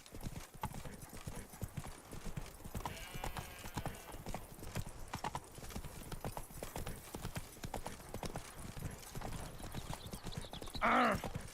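Roach the horse gallops in The Witcher 3: Blood and Wine, a fast rhythmic clip-clop of hooves continuing throughout, with a short neigh near the end and some talk mixed in.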